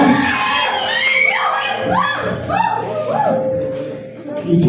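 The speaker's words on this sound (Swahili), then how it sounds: "Natamani kusikia sauti za shangwe kutoka kwenu." A church congregation shouts, whoops and cheers loudly together, with many high excited voices rising and falling in a sustained wave of praise.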